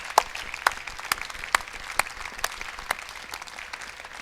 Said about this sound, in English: So big round of applause for Mike McCaffrey,